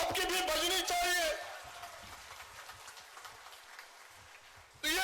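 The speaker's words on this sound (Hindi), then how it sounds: "जरा जोरदार ताली इनके साथ तो आपकी भी बजनी चाहिए।" A crowd at a public government event in Dumka breaks into rain-like applause that mixes with an amplified voice, fades into the background, then bursts up again loudly at the end.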